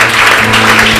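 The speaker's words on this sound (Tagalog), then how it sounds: "Bigyan natin ng isang palakpak ang ating Panginoon." Congregation applauding during a church service, a brief, loud, dense burst of many hands clapping together with a steady hum underneath.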